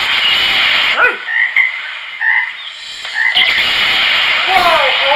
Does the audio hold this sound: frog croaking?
yes